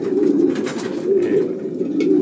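A pigeon coos softly in low, repeated throaty rolls, close by, with gentle pulsing rhythm over a short stretch.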